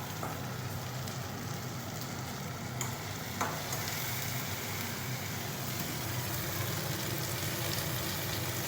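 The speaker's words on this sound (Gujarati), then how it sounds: "લસણ નાખી અને પછી ભીંડો નાખવાનો છે વઘારમાં" Steady, dense sizzling of okra frying in hot oil with garlic, loud and continuous, with a couple of faint clinks partway through.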